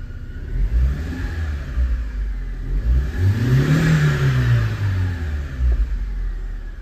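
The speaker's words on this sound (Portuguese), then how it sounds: "vou dar uma acelerada com o meu auxiliar aqui." A 2008 Chevrolet Corsa 1.0 with Bosch Motronic injection, hard starting on gasoline, revved up from idle and settling back, a loud close engine note rising and falling with no talk.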